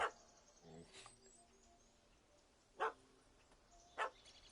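A puppy barks in The Witcher 3: Wild Hunt, Hearts of Stone expansion, a few separate sharp yips spaced apart, fairly close, against a quiet outdoor game ambience.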